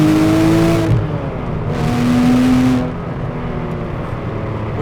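A Porsche Cayman 987 S Gen 1 with a naturally aspirated engine pulls away from a junction, its engine note climbing loud and close through two strong rising pulls with a gear change between them.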